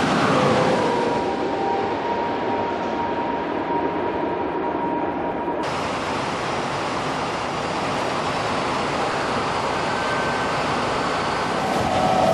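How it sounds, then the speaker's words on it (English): A maglev train prototype running just under 300 miles per hour produces a steady, loud rushing roar of wind and motion that holds throughout, with a sudden brightening partway as it moves past, and no talk. "floating maglev trains could reach speeds that rival passenger jets"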